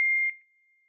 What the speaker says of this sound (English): We keep hearing when you get a ding.